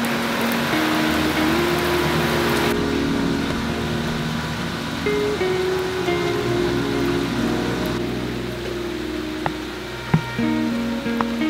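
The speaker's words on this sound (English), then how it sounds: "Obviously, as you guys can see, it's raining." Steady outdoor rain falling just after mowing, a constant broadband patter at a moderate level mixed with a low engine-like drone and a few faint clicks, with no voices.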